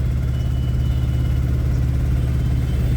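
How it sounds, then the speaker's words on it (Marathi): Cars stuck in a rain-soaked traffic jam, a continuous low engine rumble and idling drone, close and steady throughout with no voices. "सगळीकडे ट्रॅफिक जाम झाली पावसामुळं."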